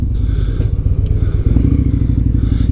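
A Victory Gunner motorcycle pulls away close by, its engine giving a loud, throbbing low rumble that builds as it accelerates.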